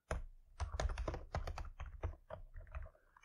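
Code being typed on a computer keyboard during JavaScript web development, a quick run of close, crisp keystrokes in bursts, heard alone without talk.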